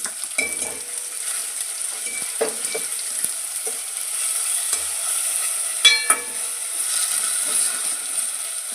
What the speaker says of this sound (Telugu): కొద్దిగా ఆనియన్స్ అండి, బాగా ఫ్రై అవ్వాలండి